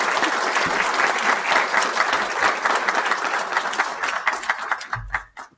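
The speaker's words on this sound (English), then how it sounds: "Let's please give Chris a warm round of applause." A crowd of audience members at a town board of aldermen meeting claps warmly, dense sustained applause that tapers off in the final second.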